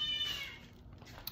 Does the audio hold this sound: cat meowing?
yes